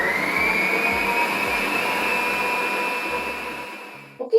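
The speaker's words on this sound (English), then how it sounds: "we are just going to use the mixer to create our dough" An electric mixer kneads dough made with olive oil and yeast, a steady loud motor whir with a faint rhythmic low thumping, running continuously before cutting off with a couple of knocks at the end.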